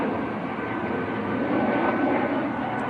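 An Airbus A220 airliner at Manchester Airport gives a steady, loud broadband engine roar that holds evenly throughout without a break, continuous and fairly close.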